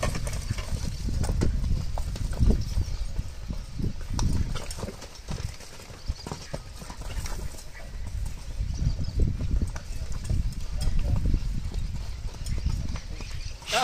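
Hooves of a newly arrived horse clip-clop over the ground of a farm corral, a steady run of close, dull thuds that continues for about fourteen seconds amid outdoor rumble.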